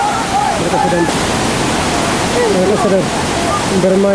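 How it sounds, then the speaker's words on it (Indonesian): A waterfall at a survey site for PLA Orya in Kampung Santosa, Unurum Guay district, pours as a loud, continuous broadband roar, with a person talking over it throughout. "karena angin yang bercampur air akibat tekanan air terjun."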